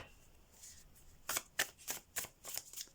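Soft riffling of tarot cards being shuffled, several quick bursts close up in a quiet room.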